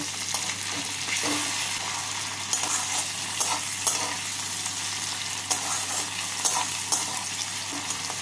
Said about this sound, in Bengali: টমেটোটাকে পেঁয়াজের সাথে ভেজে নিলাম